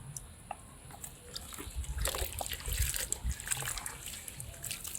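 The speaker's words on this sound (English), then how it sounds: "I'm trying to rinse the wolffia plant off" Water trickles and splashes quietly while wolffia plants are rinsed on a fish farm, a faint, irregular sloshing and dribbling that swells in the middle and stays soft and close.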